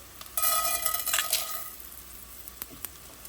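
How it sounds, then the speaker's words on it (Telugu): Tempering spices hit a ladle of hot oil in a pan before bitter gourd rings are fried, a loud burst of sizzling that fades over a second, followed by a few light metallic clinks. "కాకరకాయ చక్రాల ఫ్రైకి ముందుగా పోపులు వేస్తున్నాను."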